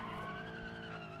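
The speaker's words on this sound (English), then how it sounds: "Bit of handbrake action." A car in the BeamNG driving game skids under the handbrake, a steady loud tire squeal laid over engine noise, heard alone and unbroken.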